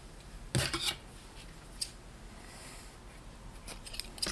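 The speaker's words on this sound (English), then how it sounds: "So I'm just going to cut my yarn." Scissors snip through crochet yarn close by, a quiet crisp cut followed by a few softer snips and light rustling in a hushed room.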